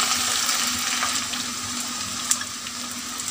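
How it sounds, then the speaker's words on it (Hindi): Garlic and ginger sizzling in a pan with lightly browned onions, a steady close frying hiss with small crackles and one sharp pop near the end, no voices. "अब हम इसमें लहसुन अदरक ऐड कर देंगे, ये हमने ऐड कर दिया है। इसको थोड़ा सा भून लेंगे"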